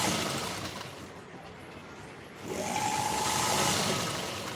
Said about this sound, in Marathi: अशा पद्धतीने आपल्याला याच्यावरती शिलाई मारून घ्यायची आहे